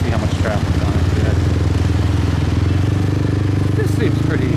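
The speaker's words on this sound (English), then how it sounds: "Let's see how much traffic's on it today." Motorcycle engines on a normally busy Saigon road, a steady close mid-pitched drone with idling and passing bikes, continuous and fairly loud throughout.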